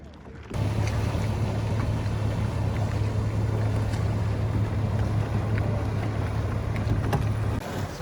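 On Lake Garda in Italy, a motorboat tows a Sunfish sailboat at a world championship regatta, its engine droning steadily and nearby from the first moment onward, mixed with rushing wind noise.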